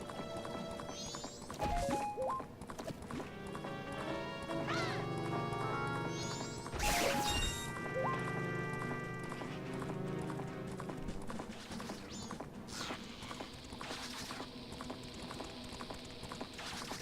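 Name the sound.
horse Epona galloping hooves in Majora's Mask video game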